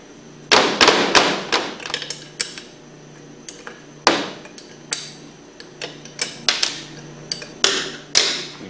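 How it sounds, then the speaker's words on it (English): Sharp metallic clanks and taps come from a half-inch wrench working bolts off the flange of a Hypro centrifugal pump, irregular bursts close by with pauses between them. "take your half-inch wrench and remove these four bolts."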